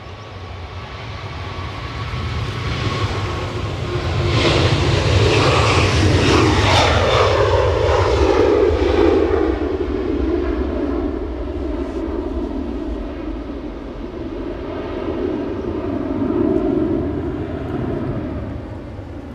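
A Loganair airliner taxiing out at Edinburgh Airport on a windy day, its engines giving a steady, loud roar with a rising turbine whine that swells and fades, alone with no talk.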